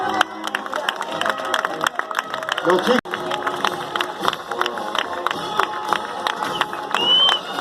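A parade crowd in Moreno applauds the municipal workers marching past, with scattered clapping and cheering at moderate distance under a steady outdoor bustle, while a voice speaks briefly.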